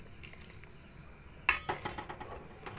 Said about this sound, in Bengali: দিয়ে দিচ্ছি ধুয়ে রাখা কাজু আর কিশমিশ।